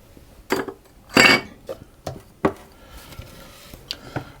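A spoon scrapes and knocks against a bowl while scooping almond cookie mixture, giving several sharp clinks and scrapes at irregular intervals, close and fairly loud, with a longer scraping burst in the middle.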